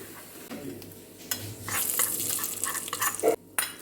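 A sizzling hot tempering poured into a Sadya-style pumpkin and red cowpea koottu curry gives a sudden hiss, then scraping stirs and clinks against the pot, close and loud, with a brief quiet gap near the end.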